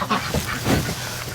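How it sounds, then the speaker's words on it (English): Muscovy ducks in a roomy coop give off fairly close, noisy honking and quacking calls over a constant background hiss. "The ducks, yes, Mr. Muscovy. They really enjoy this more room"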